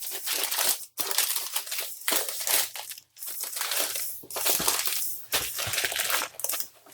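A battered shipping package is torn open and handled up close, with loud crinkling, crumpling and crushing of packaging in irregular bursts and brief pauses.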